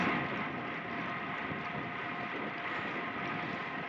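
Steady, roaring wind buffets the microphone while riding a Giant TCR road bike into a side headwind, a dense, unbroken rush of noise lasting throughout with no voices.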